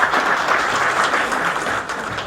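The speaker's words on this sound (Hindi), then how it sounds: "सबसे पहले तो आप सब लोग अपने लिए तालियां बजाएं।" Audience of electricians at a company event claps for themselves, a brief, loud and steady burst of applause from a crowded room.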